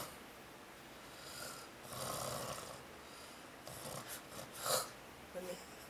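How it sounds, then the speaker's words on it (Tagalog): Loud snoring from a man comes as several rasping, snorting breaths at irregular intervals. The sound is close and harsh, with quieter gaps between the heavy bursts. "sa sobrang lakas ng hilik ni Kuya, pati siya nagigising sa sarili niyang hilik"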